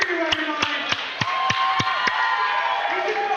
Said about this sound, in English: Crowd is going crazy for Douglas.